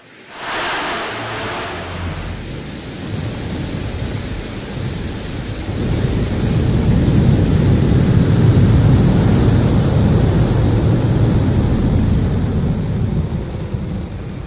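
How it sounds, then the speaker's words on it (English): A Blue Origin New Shepard rocket lights its engine and lifts off, a sudden burst of roaring noise that swells into a steady, heavy rumble and grows louder and deeper as the launch goes on, with no voices. "Command engine start. 2, 1. Ignition."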